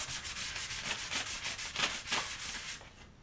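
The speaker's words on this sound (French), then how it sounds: "un coup de ponçage entre les rayons et sur la peinture rouge" Hand sanding of a red-painted bicycle rim, worked between the spokes: close, steady back-and-forth rasping strokes in a quick rhythm, fading out at the end, with no talking.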